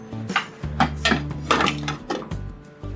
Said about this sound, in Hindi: अब इसको हम प्रेशर कुकर को खोलते हैं।